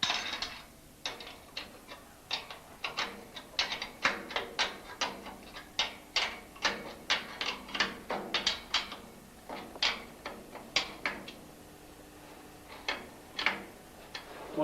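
Socket wrench ratcheting on 10mm bolts that firmly hold a bicycle pedal assembly together, sounding as a long series of quick, sharp ratchet clicks in irregular bursts. Brief pauses break the run.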